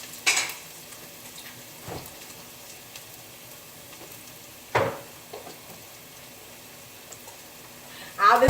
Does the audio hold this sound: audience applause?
no